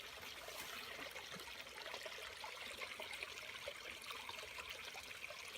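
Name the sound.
water flowing in a stream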